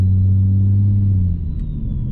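A 700-horsepower car engine rumbles while driving, a deep, loud, steady low drone that holds evenly and then eases slightly toward the end.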